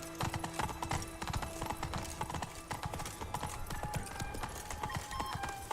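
Roach the horse gallops in The Witcher 3: Wild Hunt – Blood and Wine, with quick, rhythmic hoof clip-clops running steadily throughout, plus faint game tones in the background.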